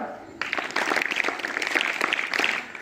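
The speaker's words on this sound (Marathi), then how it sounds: "आठवी आणि नववीच्या विद्यार्थ्यांसाठी टाळ्या" A school assembly crowd applauds eighth- and ninth-grade students, with dense, sustained clapping that breaks out suddenly after a brief quiet moment and holds steady, fading slightly at the end.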